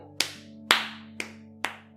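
A father clapping his hands in a film, four sharp, separate claps spaced roughly half a second apart, close and crisp over a low steady hum.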